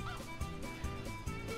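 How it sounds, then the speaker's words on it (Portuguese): A chicken clucks in the Toy Story 2 PlayStation 1 video game, with short, evenly spaced clucks over steady game music. "Ah, tem uma galinha aí."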